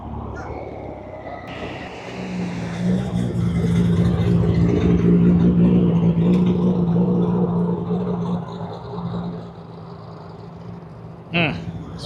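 An off-road Porsche 911 swells from a distance into a loud, throaty pass at a car meet, then fades away, with people talking nearby.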